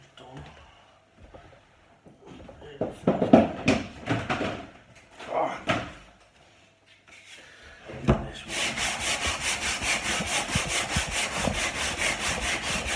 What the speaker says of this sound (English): sanding this, it should end up being just as smooth as any of the other sides.